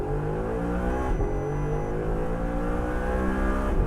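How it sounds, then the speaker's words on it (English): A sports car engine in first gear, manual mode, revs hard at full throttle out to 8,000 RPM, its roar climbing steadily in pitch as it pulls close and loud, with no talking. "I'm gonna give it full throttle now"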